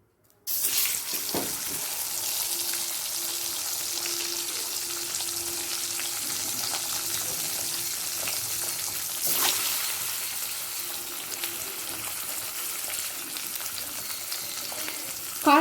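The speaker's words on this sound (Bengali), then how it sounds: "প্রত্যেকটা ডিম তেলের সাথে ভেজে নিয়ে ভেজে তুলে রাখবো" Scored eggs fry in hot mustard oil tinted with turmeric, a continuous close sizzling hiss with a brief louder crackle partway through.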